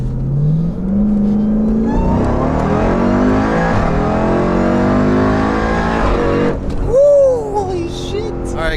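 A cammed, built 1000 hp Jeep Trackhawk accelerates on light throttle, its engine note climbing steadily over several seconds with a deep exhaust drone, then easing off; no one speaks.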